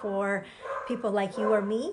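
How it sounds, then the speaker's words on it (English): A dog barks and yips a few times behind a person speaking steadily in the foreground, the barks mixed into the talk and hard to separate from it. "that's my dog if you can hear him in the background"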